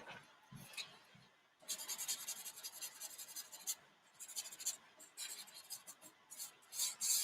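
Pen scratching across paper in short bursts and longer continuous strokes, close and fairly quiet, while a space scene with an astronaut's oxygen tank is drawn.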